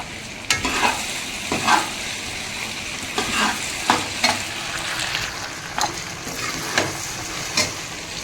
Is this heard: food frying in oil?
yes